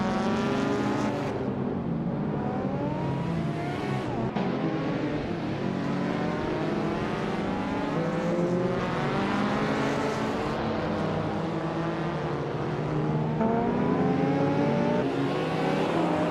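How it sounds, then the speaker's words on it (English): A 2003 Audi S4 engine in a racing video game, a loud continuous drone whose pitch climbs and drops again and again through gear changes, alone without talk. "Ilyasix is piloting a 2003 Audi S4, which is known for its balance of power and handling."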